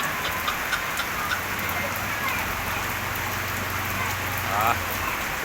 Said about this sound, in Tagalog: Tuloy-tuloy ang ulan ngayon.